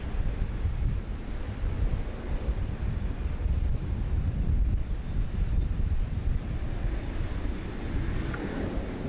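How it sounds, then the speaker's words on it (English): A Garuda Boeing 777 airliner rolls out at Sydney Airport, heard as a steady, broad jet engine roar with wind rumble, continuous and moderately loud from some distance, with no talking. "Just while we are watching the Garuda 777 rollout"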